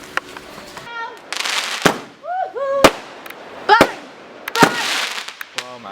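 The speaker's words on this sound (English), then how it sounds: "They're having fireworks" Fireworks bursting outdoors at night, with several sharp bangs and crackling pops spread over the stretch, some with whistling rises, while people talk and shout between the blasts.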